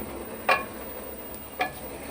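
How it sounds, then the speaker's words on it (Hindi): A spoon scrapes through fried vegetables and chicken for chicken jalfrezi in a pan, two brief distinct stirring scrapes over a soft, low background sizzle. "ये अब हमने इसको सिर्फ मिक्स करना है, पकाना नहीं है ज़्यादा, सिर्फ मिक्स करना है इसके अंदर"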